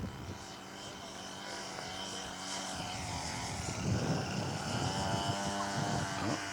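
A Hangar 9 Cub scale RC model airplane flies at a show, its small engine droning steadily across the field at moderate distance, with faint crowd sounds around it.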